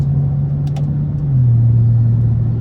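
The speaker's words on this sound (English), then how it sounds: "I like the sound of the single turbo." A tuned single-turbo BMW 335i engine hums with a low, steady drone that drops slightly in pitch partway through, loud and close, with a brief faint click early on.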